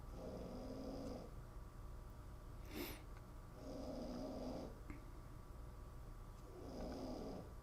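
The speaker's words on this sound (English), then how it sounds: "That's my dog snoring over there." Rhythmic snoring from a sleeping dog, three slow rumbling breaths spaced a few seconds apart, with a brief snort in between, fairly close and steady.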